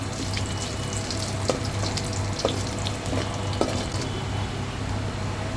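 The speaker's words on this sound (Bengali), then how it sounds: "পেঁয়াজ কুচি দিয়ে একটু বাদামি কালার করে ভেজে নিতে হবে।" Chopped onion frying in mustard oil, a steady close sizzle with occasional stirring clinks from the pan, no voices.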